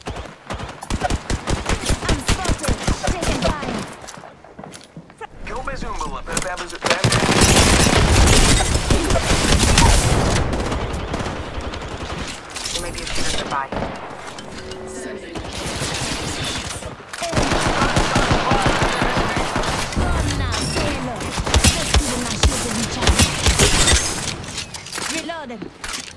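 Dense gunfire in Apex Legends rattles in long automatic bursts with brief gaps, loud and close, mixed with game voice callouts and other battle effects.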